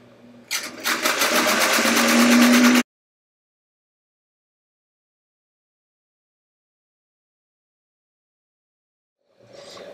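Sewing machine stitching quilt top seams for a jelly roll quilt, running in a loud steady burst for about two seconds before stopping, followed by silence and a faint mechanical restart near the end.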